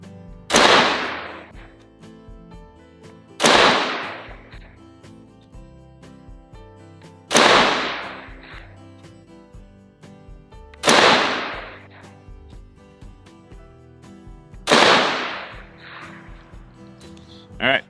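Five loud, close rifle shots from a 16-inch 300 Blackout barrel firing 110 grain VMAX ammunition at an outdoor range, each a sharp crack with a ringing tail, evenly spaced about three seconds apart.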